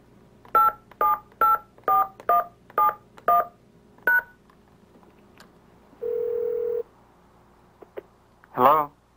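Dialing tones on a cellular phone sound as a run of about eight short, evenly spaced beeps followed by a longer single tone. A faint voice-like sound comes near the end.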